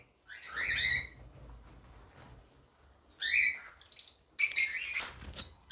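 A breeder pair of cockatiels gives several bright, sharp chirps in short bursts, close by, separated by quiet gaps with a faint low rumble underneath; no one speaks.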